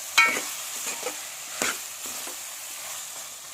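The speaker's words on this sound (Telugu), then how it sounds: "మొత్తం ఒకసారి మిక్స్ చేసుకోండి." A spoon stirs eggplant and chana dal curry in a pan, giving soft scraping strokes and light sizzling, with a few distinct stirs near the start and middle over a steady low frying hiss.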